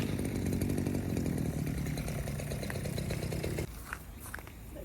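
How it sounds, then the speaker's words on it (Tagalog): Grass cutter running steadily, a loud buzzing two-stroke engine drone that cuts out abruptly near the end, leaving quieter background noise. "Ito pala yung gagamitin natin na na pangputol ng damo,"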